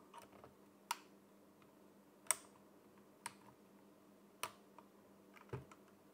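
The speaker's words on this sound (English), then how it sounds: "Apparently the keycap pulling tool is not pulling very well." Sharp isolated clicks and snaps as a keycap puller pries at stubborn keycaps on a cheap budget mechanical keyboard, about five spaced ticks over low background hum, close and fairly quiet.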